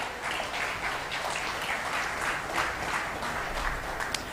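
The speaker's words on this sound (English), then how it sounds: "Can we have a huge round of applause for this event?" Audience applause at the Business Enterprises of Tomorrow 2022 event, a steady wash of many hands clapping close and loud for several seconds.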